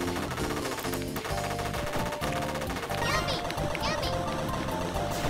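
Rapid, continuous fire from dual machine pistols in an anime-style vtuber video game, running steadily throughout under music and game sounds, with a voice talking over it.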